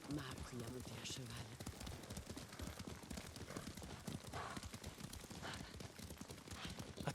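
Horse hooves clip-clop at a steady trotting rhythm in the Ghost of Tsushima video game, fairly close and continuous, with occasional whinnies and dialogue spoken over the gameplay.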